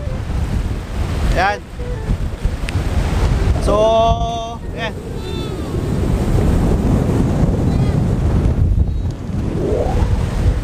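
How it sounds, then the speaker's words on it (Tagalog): Strong typhoon wind roars and buffets the microphone nonstop in gusts, with a brief spoken interjection or two heard under the blustery noise. "Sobrang lakas na hangin kasi may bagyo"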